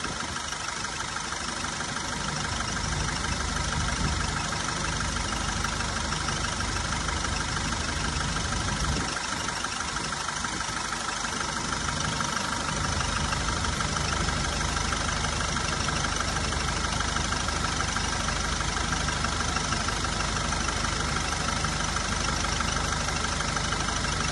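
A 2017 tempo van engine with about 2.7 lakh km on it idles steadily during a carbon flush, a constant close rumble with faint knocking and no talk.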